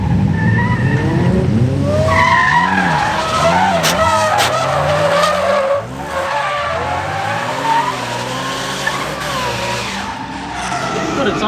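A hotrod drift car slides sideways with loud, sustained tire screeching and wavering squeals over a steady engine roar, close by, while people talk over it.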